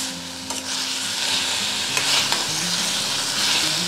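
Fenugreek leaves and potato with salt and curd being sautéed in a pan give a steady close sizzle, with spoon stirring and scraping throughout and a few sharper clinks.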